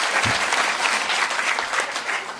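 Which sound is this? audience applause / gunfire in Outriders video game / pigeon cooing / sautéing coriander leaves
audience applause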